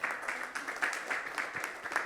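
Audience at an award ceremony clapping at a moderate distance, a steady patter of many hands with slight swells, no voices on top.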